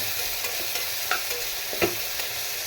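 Onions sizzling in hot oil in a pan for rice upma, a steady bright crackle with a couple of brief scraping stirs, close and loud with no talking.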